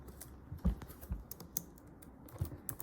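Someone types on a computer keyboard into a search box, irregular quick key clicks in short bursts, close and clear in a quiet room with no talking.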